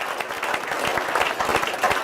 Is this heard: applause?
yes